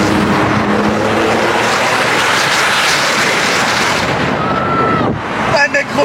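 Loud, continuous roar of a Porsche engine echoing inside a road tunnel, sustained and dense before easing near the end, with a brief tonal whine and a few sharp bursts at the close.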